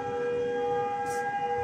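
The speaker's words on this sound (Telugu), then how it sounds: "సైరన్ వినిపిస్తుందా క్లియర్గా?" A civil defense siren wails with a steady, sustained tone, heard from a distance and heard on its own without any talk.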